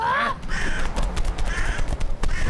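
Ravens in a cartoon give loud, harsh caws in several rough calls over a dense, noisy backdrop, with no talk.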